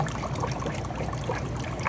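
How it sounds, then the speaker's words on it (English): Water drains steadily through the plumbing of a home fish room water system, a continuous close trickling wash with no talk. "You can see the water draining."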